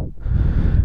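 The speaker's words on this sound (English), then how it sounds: "And there's now strong gust of wind." A strong gust of wind buffets the microphone outdoors at a model glider contest at the FAI F5J World Championship in Trnava, a loud, low rumbling roar rising quickly and holding steady.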